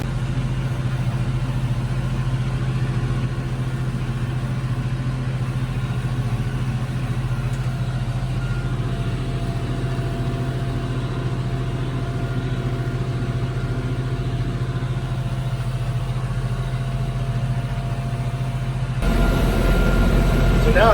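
A tractor engine cutting hay, in B third gear, drones loudly and steadily with a deep rumble throughout, changing tone near the end.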